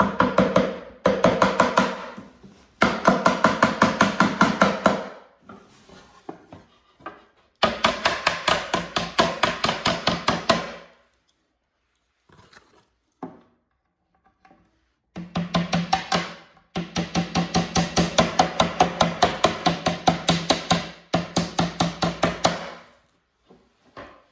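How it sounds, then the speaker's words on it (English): Rapid hammer blows strike wooden parts of a flat-pack nightstand in long bursts, loud and close, separated by pauses with a few scattered single taps. "Hammer,"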